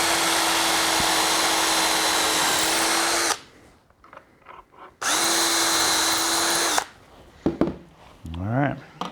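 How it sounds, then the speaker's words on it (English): A power drill drills through wood in two separate loud bursts with a quiet gap between, followed by brief handling noises and a faint voice. "I hold it down tightly and make my first drill"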